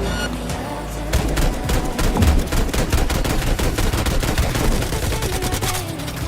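Sustained rapid gunfire from Cyberpunk 2077 rattles on loudly and continuously after a brief lead-in, shots packed tightly together over a busy game mix.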